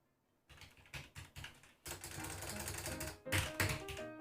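Rapid keystrokes on a computer keyboard in a chilly garage full of vintage computers, a steady run of close, clattering clicks in uneven bursts, with no voice over it.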